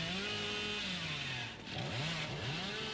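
A chainsaw wielded by Hillbilly in the game Dead by Daylight revs steadily and loudly throughout, its pitch dipping briefly mid-way and then sweeping back up in repeated surges.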